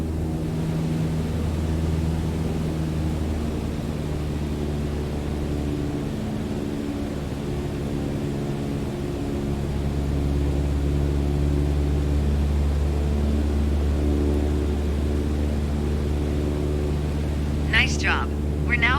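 A light propeller plane's engine in Microsoft Flight Simulator 2020 drones steadily and loudly, its pitch dropping as the throttle eases back to about 2,300 RPM, with a brief chirp near the end.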